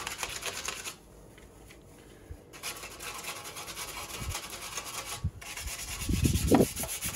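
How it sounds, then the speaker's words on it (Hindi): Sandpaper rubs back and forth over metal before painting, a steady close rasping scrape with brief pauses and a louder scuff toward the end, heard without talk. "कलर करण खां पहिरियां कंहिं बि शइ खे रेगमाल ज़रूरु हणंदा"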